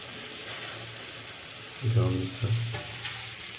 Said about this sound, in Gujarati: આ રીતે કંઈક તેલમાં શેકાય